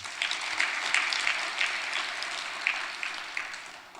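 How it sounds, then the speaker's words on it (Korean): A church congregation claps for its choir, a soft, even patter of many hands that is fairly distant and fades toward the end, with no talking over it. "박수 한번 또 쳐줘요"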